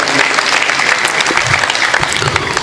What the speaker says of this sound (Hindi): तो एक बार फिर से तालियां मैं चाहूँगा इनके सम्मान में बज जाए